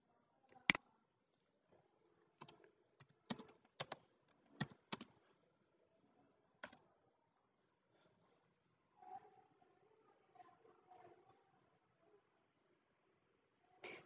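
Sparse bursts of computer keyboard typing while searching for stock images, faint and close, with irregular clusters of key clicks separated by quiet pauses and a soft background murmur in the middle stretch.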